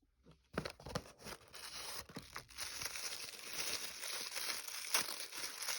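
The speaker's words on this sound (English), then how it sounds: "I kind of just want to rip the tissue paper." Tissue paper rips and crinkles during the unboxing of a blind-box toy figure, with a sharp tear followed by several seconds of continuous close crumpling.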